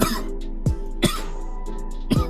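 Several rough, hacking coughs come close to the mic in uneven bursts, one after another, with a low hum running underneath.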